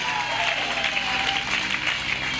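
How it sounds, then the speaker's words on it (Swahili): Worshippers in a church clapping in unison for Jesus, a continuous, fairly loud spread of many hands with no clear breaks, a faint voice buried in the mix. "Pigeni makofi wote kwa jina la Yesu."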